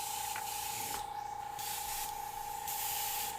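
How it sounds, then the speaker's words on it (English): Airbrush spraying orange transparent paint for a real-fire and skull design: a steady, close hiss that runs continuously, swelling and easing in bursts as the trigger is worked. "I'm going to use the orange transparent."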